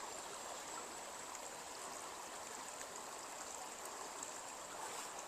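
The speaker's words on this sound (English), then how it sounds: "Just kind of a swampy little stream here, but the sound of it's kind of relaxing" Small swampy stream trickling under conifers, a soft, steady wash of running water that stays faint and even throughout with no voices.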